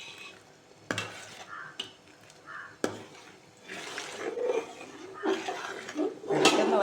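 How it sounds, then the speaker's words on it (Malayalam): Chana dal payasam with ghee, jaggery and sago simmers in a pot while a spoon stirs it now and then, giving sharp metallic clinks early and busier stirring and bubbling toward the end, fairly faint. "ഇടയ്ക്കിടയ്ക്കൊന്ന് ഇളക്കി കൊടുക്കാം. തിളച്ച് വരട്ടെ."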